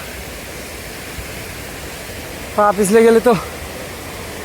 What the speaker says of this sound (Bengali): ঝর্ণার পানি বাড়ার যে শব্দ শুনলে তো দিল খোশ हो गया